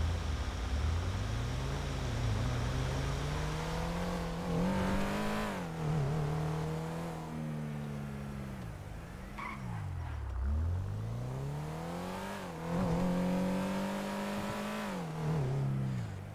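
A video game car drives and revs hard, its engine note climbing and dropping repeatedly through gear changes, steady and continuous with no talk.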